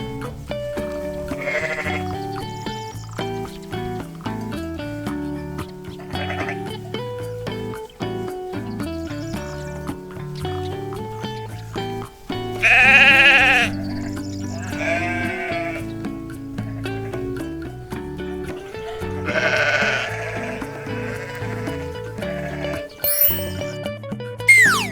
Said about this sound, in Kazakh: Ал бұл қой.